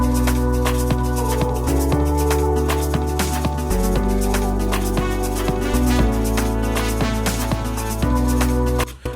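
An Afro House drum loop with kick and percussion plays in a full, dense mix over sustained melodic layers, a steady driving groove that runs loud and unbroken until it cuts off at the end.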